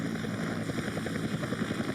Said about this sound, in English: The helicopter is still up and around